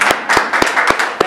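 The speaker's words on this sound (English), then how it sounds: "It's okay to applaud" Short bursts of applause from an audience at a political campaign event in Pittsfield, Massachusetts, five sharp claps landing at a steady rhythm over a soft murmuring room.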